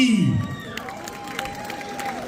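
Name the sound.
audience applause and cheering for a children's folklore group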